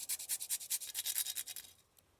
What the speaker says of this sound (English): So I'm just going to grate in most of 1 nutmeg.